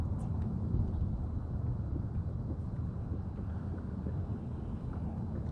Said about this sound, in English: The wind is against me